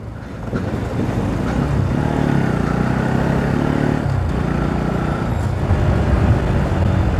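An off-road motorcycle rides along a road, its engine a steady low drone and rumble that stays close and continuous throughout, with a brief dip in the middle and no talking.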